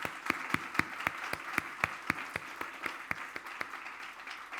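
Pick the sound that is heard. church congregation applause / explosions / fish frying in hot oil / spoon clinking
church congregation applause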